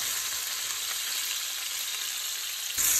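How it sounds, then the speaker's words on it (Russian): Garlic and zucchini frying in olive oil in a pan, giving a steady, close hiss of sizzling that runs throughout and swells a little louder at the very end. "буду жарить это все на сковородке, на оливковом масле"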